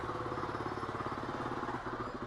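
A Kawasaki KLR 250 motorcycle with a freshly rebuilt carburetor runs in first gear, its engine chugging steadily and loudly at close range with a rapid, even pulse.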